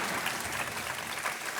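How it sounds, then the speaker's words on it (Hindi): Studio audience applause on the KBC game show set, a continuous wash of clapping from many hands heard fairly quietly and evenly throughout the brief moment. "तालियां बजती रहनी चाहिए देवी और सज्जनों"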